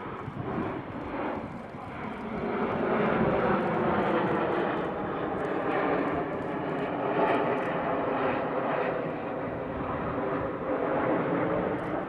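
Red Arrows jet aircraft fly the diamond roll in formation at an air show, producing a loud, sustained roar that swells and rumbles steadily throughout, with no speech over it.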